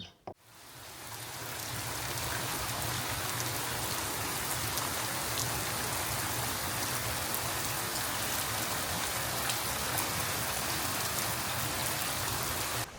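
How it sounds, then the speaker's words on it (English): Light rain falls steadily on an outdoor homestead, a dense even patter of drops that holds at the same level for the whole stretch, with no voices over it. "I'm so glad we are getting a small rain shower."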